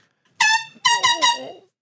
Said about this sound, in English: Jeez, he brought the air horn.